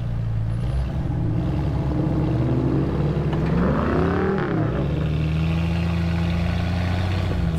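A Jeep XJ engine revs in reverse while trying to get unstuck, a loud, close rumble that rises in pitch and falls back to a steady drone, with no speech.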